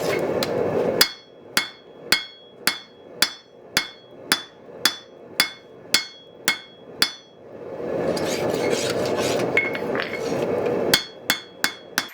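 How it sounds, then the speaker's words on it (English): Hammer forging a Damascus San Mai blade steel billet in a workshop, a loud, steady series of ringing metal strikes, then a roaring pause before a final quick run of blows. "so I'm going to forge that a little bit"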